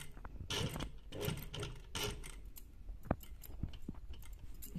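Sewing machine stitching a belt, running in short quiet bursts of needle clatter with a few sharp knocks between, close by in a calm room.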